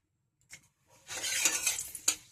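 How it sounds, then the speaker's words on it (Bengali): Dry red chili dropped into hot oil as a tempering for a leafy green stir-fry gives a short burst of crackling and metal clatter after a quiet start, with no talk. "তো ওই লঙ্কাটা আমি ফাটিয়ে দিয়ে দেবো"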